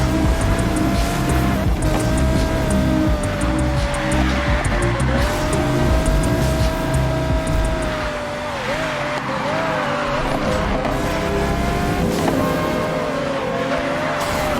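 A turbocharged race car drives hard through a turn, its engine loud and sustained with shifting pitch, brief dips and tire noise as it works the corner.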